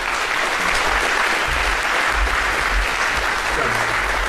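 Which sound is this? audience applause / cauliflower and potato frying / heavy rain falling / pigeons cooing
audience applause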